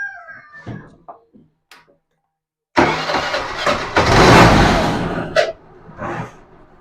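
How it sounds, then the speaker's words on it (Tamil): A motorbike starts on a spare battery. After a few faint knocks and a short silence, the engine cranks and catches nearby, runs loudly with a brief rev, then drops back toward idle. "நம்ம ஸ்டெப்னி பேட்டரி வச்ச பிறகு போட்ட பிறகு வண்டி ஸ்டார்ட் ஆகுது"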